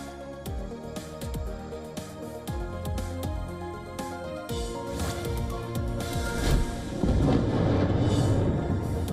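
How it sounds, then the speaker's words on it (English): Explosions in Tehran: a run of sharp, heavy booms and blasts, some isolated and some clustered, rolling with deep rumble and building into a denser, louder barrage toward the end. "Explosions in Tehran and missile alerts in Tel Aviv raised fears of supply disruption from major producer Iran."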